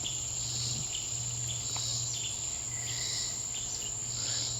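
A swamp cicada calls in a steady, unbroken high buzzing drone, moderately distant and alone, with faint outdoor ambience beneath.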